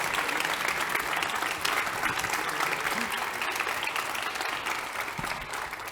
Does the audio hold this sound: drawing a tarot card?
no